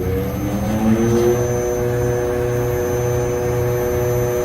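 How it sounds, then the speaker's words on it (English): An HVAC compressor starts up beside a running glycol coolant pump, a loud, steady mechanical drone with a low pulsing throb and a constant high whine, no one speaking. "Compressor 1 is starting up."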